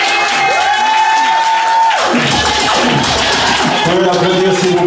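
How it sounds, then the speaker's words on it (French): A crowd applauding and cheering at a French-speaking gathering, loud and dense throughout, with whoops and shouts rising as the clapping swells. "Vous pouvez l'applaudir s'il vous plaît"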